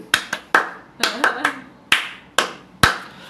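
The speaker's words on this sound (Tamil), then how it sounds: "அப்படியே கைதட்டுறாங்க." Bigg Boss Tamil housemates clap for the captain in a handful of sharp, separate claps, close and scattered at an uneven rhythm with short gaps, while a voice speaks briefly between them.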